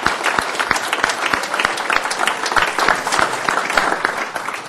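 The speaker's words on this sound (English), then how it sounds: "I appreciate you all joining me in giving her a round of applause" An audience at a city council meeting claps in a lively, sustained round, crisp individual hand claps standing out against a thick layer of clapping, steady and fairly loud throughout.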